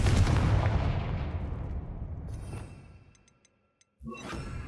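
A Confringo spell explosion from the Hogwarts Legacy video game on PS5 lands as a loud, booming blast. Its rumble fades out over about three seconds, then a short silence falls before another burst of loud game sound.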